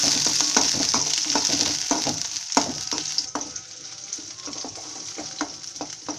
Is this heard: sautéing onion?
yes